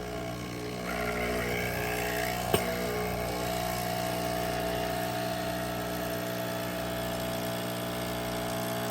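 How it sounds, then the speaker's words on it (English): A Nespresso Essenza Mini capsule coffee machine brews espresso with a loud, steady pump hum and drone that runs the whole time. A single sharp click sounds early on, and there is no talking. "Now I'm gonna press the espresso button."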